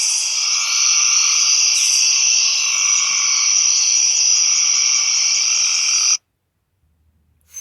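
A frog croaks in a steady, dense, high chorus, loud and unbroken for about six seconds before cutting off abruptly to near silence.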